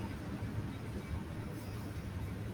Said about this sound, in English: It's a freight train, I can tell.